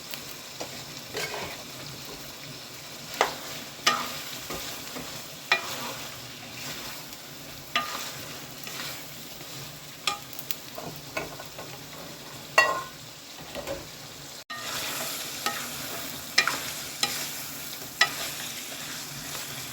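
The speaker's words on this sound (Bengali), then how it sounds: "এখন মাংস দিয়ে দিব পাঁচ মিনিট মাংসটা কষাবো" Chicken pieces frying in a pan for chicken ghugni, sizzling steadily for the whole stretch while a utensil stirs and scrapes them in repeated bursts, close up and with no voices.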